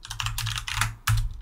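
Keys clacking rapidly on a computer keyboard while commands are typed into a UNIX server session, a close burst of quick strokes with a short pause and a final louder press.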